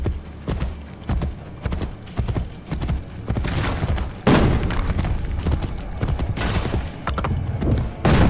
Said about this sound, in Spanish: Iré más rápido a caballo.